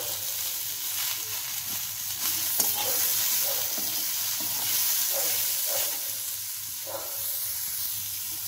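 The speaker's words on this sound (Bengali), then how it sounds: "এটাকে একটুখানি ভালো করে ভেজে নেব।" Oil sizzles steadily in a pan as turmeric is fried for a Bengali-style methi (fenugreek leaf) saag, with soft stirring scrapes and occasional spatters running the whole time, close and continuous with no voices.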